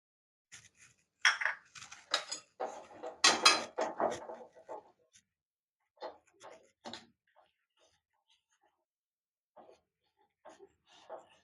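A spoon scrapes and clinks in a cooking pan as spices, salt and turmeric are mixed into green peas, in short irregular bursts with quiet gaps between them.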